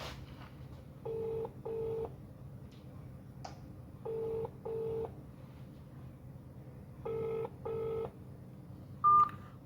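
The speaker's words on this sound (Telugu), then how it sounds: "ఫోన్ రింగ్ అవుతుంది." Ringback tone on an outgoing phone call: three pairs of short double beeps spaced evenly apart, faint over a quiet line hiss, with a brief higher beep at the end.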